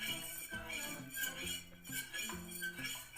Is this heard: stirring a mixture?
yes